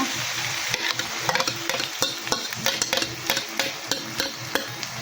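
Egg frying in a pan with bitter gourd (ampalaya), a continuous close sizzle broken by repeated sharp clinks and scrapes of a utensil against the pan.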